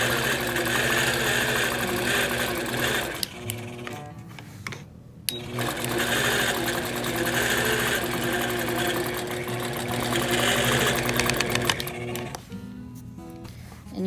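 A longarm quilting machine stitches steadily along a plaid line on a quilt, its fast mechanical needle chatter running loud and close for most of the time, with brief pauses and stops near the middle and toward the end.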